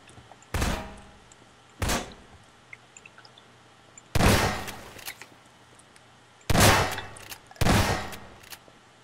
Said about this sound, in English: I'm just hearing gunshot.